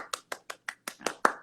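About eight sharp hand claps in a steady, fairly quick rhythm, close and clear, with silence between each clap.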